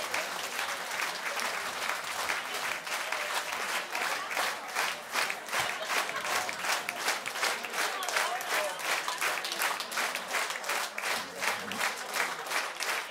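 A concert audience at a band performance claps on their feet, with long, dense applause that stays even and lively and takes on a slight rhythmic pulse as it goes on.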